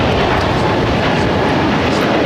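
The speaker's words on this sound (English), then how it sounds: "Roxy 707 taking off to Jacksonville on the A220-300." An Airbus A220-300 takes off at LAX, a loud, steady broadband jet roar that fills the whole short stretch without a break.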